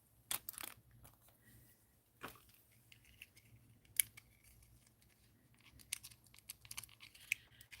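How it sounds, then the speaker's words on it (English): Scissors cut open a plastic package of crystals for bracelet making, with several crisp snips and crinkling of the wrapper heard close and quiet, no talking. "And so we'll cut our crystal package open."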